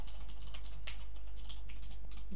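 Steady clicking of computer keyboard keys being typed at a desk, close and fairly quiet, with irregular bursts of keystrokes and no talking.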